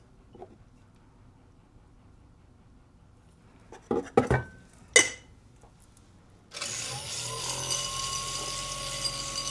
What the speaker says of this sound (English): We're going into the tumbler.